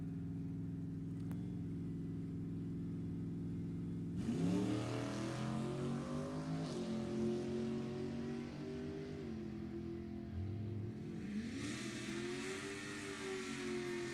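A '72 Camaro and a '72 Chevelle wagon at an NHRA bracket drag race, idling in a low rumble, then roaring off the line with rising, shifting revs that fade, and a second wave of engine noise swelling near the end, heard from a distance.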